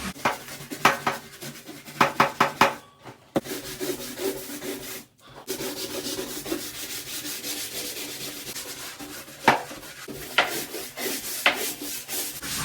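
Rough scrubbing of a bathtub and its walls by hand with heavy pressure, rhythmic rubbing strokes that come in bursts with brief pauses, close and fairly loud, with no voices.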